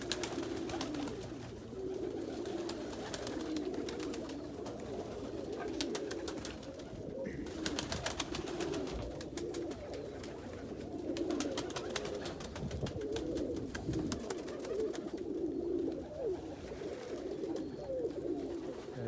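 Young pigeons coo continuously in a pigeon loft, overlapping soft throaty calls with a faint rattling and fluttering background, close by and steady throughout.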